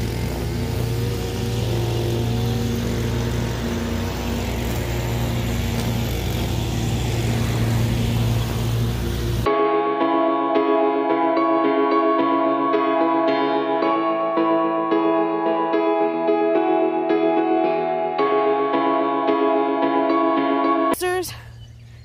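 A lawn mower engine drones steadily and loudly for roughly nine seconds, a rough continuous mechanical hum during yard mowing, before it gives way to music for the rest of the clip.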